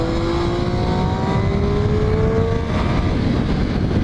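On the Thompson Speedway circuit in Connecticut, a motorcycle accelerates hard toward 76 mph, its engine note climbing steadily in pitch under heavy wind rush for several seconds.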